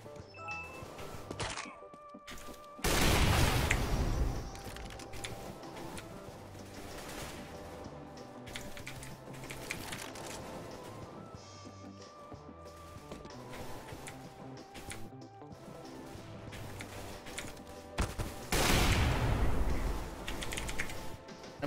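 Rapid gunfire in a CS:GO deathmatch, dense crackling bursts with louder volleys near the start and end, mixed with clicky keyboard and mouse sounds close by.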